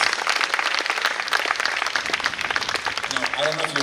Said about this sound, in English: Please give Mr. Del Christopher a strong round of applause.